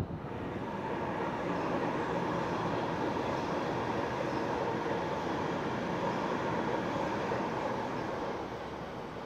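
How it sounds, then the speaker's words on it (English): A Waratah suburban train, set A13, runs up toward Central near Macdonaldtown with a loud, steady rolling roar of wheels and motors that holds close and even for the whole stretch. "That was Waratah set A13 passing the up suburban bound for central, next stop being Redfern."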